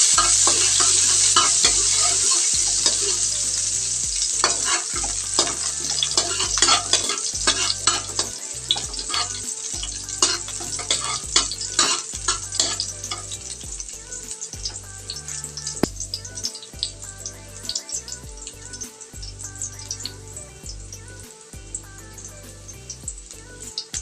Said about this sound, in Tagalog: Igisa lang natin yung sibuyas dahon.